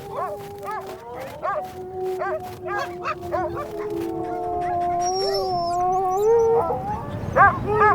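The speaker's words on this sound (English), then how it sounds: "A deep howl echoes through the mountains, and the entire pack is ready to unleash its full terror." A wolf pack in the Himalayan mountains howls in long, overlapping, wavering calls, several voices rising and falling together at a moderate distance against a faint background.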